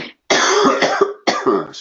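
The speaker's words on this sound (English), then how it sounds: "I have a bad cold, so I apologize for the coughing" Several harsh, congested coughs from a person with a bad cold, close and loud, arriving in two quick bursts with a short pause between.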